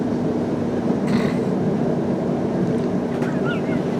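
Train rumbling in toward Cardiff Queen Street station, a steady loud broadband roar with a low hum and faint squeals near the end.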